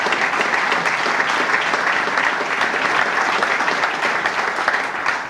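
Steady applause from a gathered crowd at an outdoor trail opening, continuous, fairly close clapping with no talk over it.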